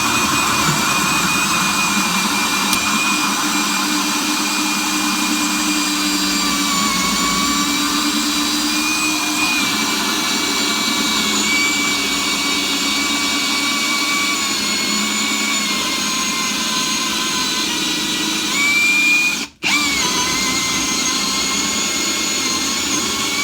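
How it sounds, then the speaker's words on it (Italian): A Parkside Performance 20V cordless impact drill cutting with a 73 mm hole saw whines steadily at high speed, a continuous loud droning buzz with a brief cutout near the end. "Adesso vediamo un foro con la sega a tazza da 73 mm"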